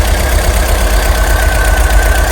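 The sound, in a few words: 1981 VW T25 campervan engine idling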